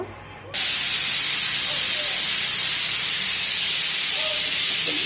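Ghee with white oil heating in a pan for Hyderabadi haleem, after onions were fried crisp. A loud, steady, close hiss cuts in abruptly after a brief quiet moment and holds evenly to the end.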